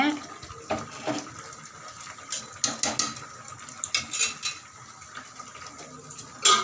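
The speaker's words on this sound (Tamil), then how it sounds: "மண் சட்டியில் ஊற்றிட்டு" Eggplant kadayal is poured into a clay pot, with uneven wet splashes, soft clinks and scraping bursts coming close and at moderate volume.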